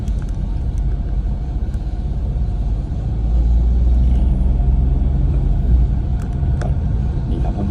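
Steady low rumble inside a moving van, engine and road noise droning continuously and swelling slightly louder midway, with no talk.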